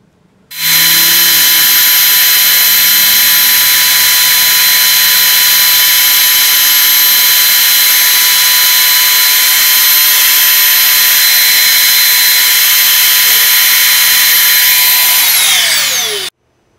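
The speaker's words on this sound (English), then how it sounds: "Here's my router, and my computer's all ready to carve the P." CNC router carving the letter P into a wooden board bolted down for a Scrabble tile: a loud, steady high-pitched spindle whine and cutting roar that holds for about fifteen seconds before winding down at the end.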